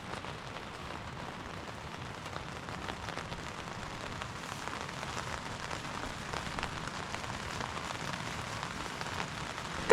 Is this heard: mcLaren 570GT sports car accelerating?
no